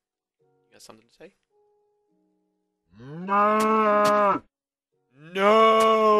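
Two loud, close Minecraft cow moos, each a long tonal low, separated by a pause and following a brief shouted word.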